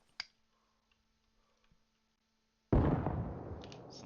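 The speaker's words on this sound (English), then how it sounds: "Walking inside, I'll throw some nade. You already hear it. Nade out." Grenade blast inside a room in Arma Reforger: a faint tick early on, then a sudden loud explosion that rumbles and slowly decays over the last second, with no talking.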